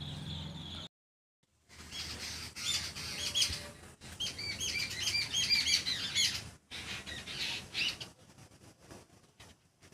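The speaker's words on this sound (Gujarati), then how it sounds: "ગાઈસ તમે ખાલી અવાજ સાંભળો પક્ષીઓનો." Many birds call and chirp together in a dense, busy chorus that carries on for most of the span, starting after a brief silent break near the beginning and thinning toward the end.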